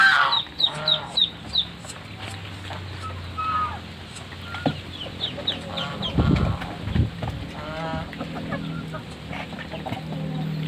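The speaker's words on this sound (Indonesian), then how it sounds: "ayamnya rusuh-rusuh sekali" A rowdy flock of chickens clucks and squawks at feeding time on a duck and chicken farm, with repeated close, busy calls and rustling scattered across the whole stretch.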